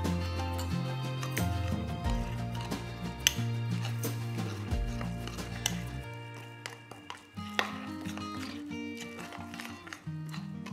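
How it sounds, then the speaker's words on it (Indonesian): A spoon scrapes and clinks against a metal pot of Korean pork kimchi stew in irregular strokes, with soft tapping over background music. "Kita aduk."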